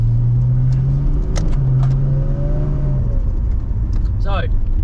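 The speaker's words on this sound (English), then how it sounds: "So it's a 1989 Nissan Skyline Executive base model, but it's a little bit spicy. So it's an RB30." A 1989 Nissan Skyline R31 Executive with a turbocharged RB30 engine drives along, its steady low engine drone close and constant throughout, with a faint rising whine near the end.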